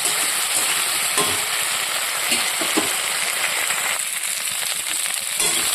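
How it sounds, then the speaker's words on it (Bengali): Spices and vegetables for a curry frying in a pan while being stirred, a dense, continuous sizzle with occasional scraping knocks and clinks of the utensil, steady and close throughout, no voices. "মশলাটাকে কিন্তু বেশ ভালো করে কষিয়ে নিতে হবে"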